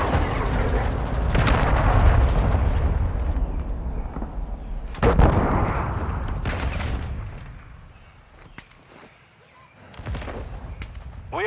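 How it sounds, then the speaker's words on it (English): In Call of Duty: Modern Warfare II, a cruise missile strike lands amid battlefield gunfire: loud, close booming blasts and bursts of shots recur in waves, with brief quieter gaps between the heavy impacts and chattering fire. "Friendly cruise missile approaching target."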